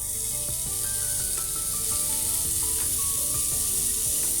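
Carrots hiss and crackle as they fry with chopped onions in hot oil for a mixed vegetable curry, a constant close sizzle with light stirring beneath background music.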